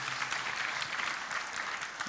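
A church congregation claps hands together in a brief, steady burst of dense applause, heard at a moderate distance without speech.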